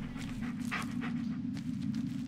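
A dog pants steadily in the horror video game Blair Witch, quick rhythmic breaths over a constant low hum, with no talking.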